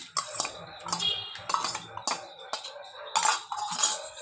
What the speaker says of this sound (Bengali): এখন এই যে মিক্সচার যে করে রেখেছিলাম চালটা দিয়ে দিচ্ছি।